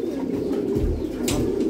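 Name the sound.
domestic pigeons cooing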